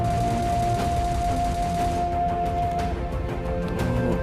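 Rapid bursts of M4 rifle fire in PUBG Lite, sharp repeated shots rattling loudly one after another, with no voice over them.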